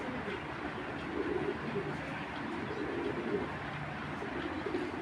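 Soft repeated cooing of a pigeon, low and steady, close by in a quiet setting with a faint background hum.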